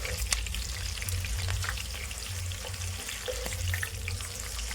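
Pakodas with green chilli and curry leaves fry in hot oil with a continuous soft bubbling sizzle, fairly quiet, joined by a low rumbling hum and faint watery splashes, with no voices.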